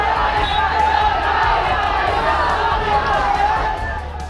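Hundreds of boys aged 15 to 20 gather after Friday prayers in Mohammadabad Gohana, Mau, shouting slogans as a loud, dense crowd roar that swells and persists throughout.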